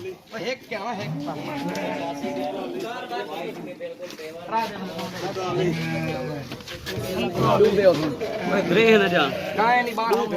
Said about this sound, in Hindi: भेड़ा है ना भाई भेड़ा पकड़ गया